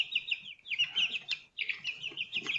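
A group of baby chicks in a garage chirps continuously, high, shrill and overlapping, in dense close peeps with a brief lull midway before the chorus resumes.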